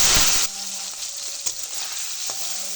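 Small fish rubbed with salt and turmeric sizzle loudly in hot mustard oil, a steady close crackle with a sharp burst at the start and a few stirring taps.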